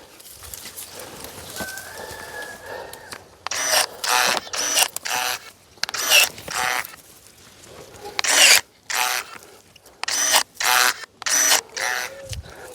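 A cordless Ukrainian-made garden power tool runs in short, loud, buzzing bursts, about a dozen of them in a quick stop-start rhythm, after a quieter stretch of faint background noise.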